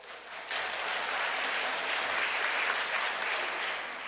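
Steady audience applause at a church retreat lecture welcoming a seminary president, dense clapping from a large crowd swelling in after a brief pause and holding evenly, somewhat distant.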